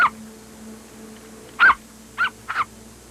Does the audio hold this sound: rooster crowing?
no